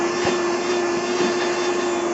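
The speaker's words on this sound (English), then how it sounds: "last but not least with this kit is this handy little vacuum" A small Hart handheld vacuum runs with a steady, close whine and a constant motor hum.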